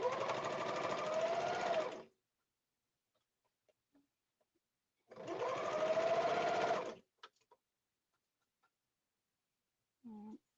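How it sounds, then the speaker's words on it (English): A serger stitches elastic together with a lining and an orange outer fabric in two bursts of fast, whirring machine hum, each about two seconds long. Quiet pauses with small clicks separate the bursts. "And I'm serging, making sure I'm catching the lining and the outer orange fabric."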